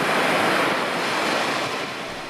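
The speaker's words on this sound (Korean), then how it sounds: "지금 이 배가 파도를 치고 파도를 거슬러 지금 나가려고 있고요" Rough North Atlantic surf pounding against a fishing boat heading out through high waves, a continuous loud roar of breaking water and wind with no let-up.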